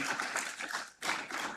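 Audience at the opening ceremony of a regional research and innovation conference claps steadily, a dense wash of hand claps that briefly dips before swelling again.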